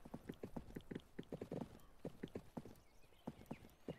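Horse hooves clip-clopping in the video game 1428: Shadows over Silesia, a quick steady run of close, crisp hoofbeats with a brief pause midway before resuming.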